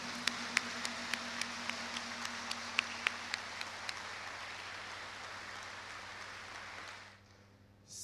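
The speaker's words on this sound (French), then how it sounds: "saluer votre contribution à la formation de nos 3103 étudiants par un applaudissement chaleureux" Warm applause from a university ceremony audience forms a steady, even wash of clapping, with a few sharper individual claps near the start, then cuts off abruptly near the end.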